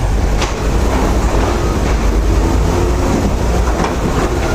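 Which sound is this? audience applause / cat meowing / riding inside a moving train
riding inside a moving train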